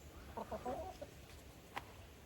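Chickens cluck in a quick burst of short calls close by near a trailer, followed by a single sharp cluck, all fairly faint with no talk.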